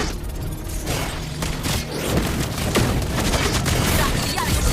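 Rapid gunfire from a rifle-wielding hero in the mobile game Mobile Legends: Bang Bang, crackling shots and bursts over game effects, with a voice speaking intermittently.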